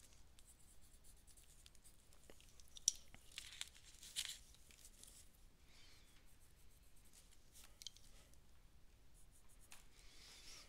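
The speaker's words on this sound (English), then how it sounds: "this is where that extra sharp pencil makes a big difference to get around and between things" A sharp colored pencil drawing detail on paper in an art journal, faint close scratching and light tapping strokes in uneven bursts, with a few sharper ticks, quiet and alone.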